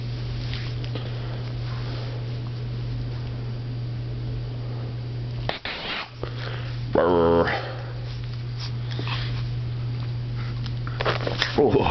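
Two golden retrievers play rowdily indoors, giving brief whimpers and a short yelping burst over a constant low electrical hum, while a person speaks to them.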